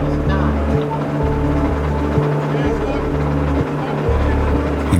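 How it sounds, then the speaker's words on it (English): Travis Pastrana's rally car sits at the start line of a hill-climb run, its engine revving in repeated bursts with a choppy, pulsing low drone, close and loud. "He revs his engine to bring it up to temperature."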